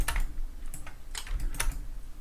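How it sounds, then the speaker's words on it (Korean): Typing numbers on a computer keyboard, close up, as a quick irregular run of clicky keystrokes with no talk. "그러면 2340을 이렇게 타이핑해주고 엔터 내지는 그냥 바탕을 클릭해주면"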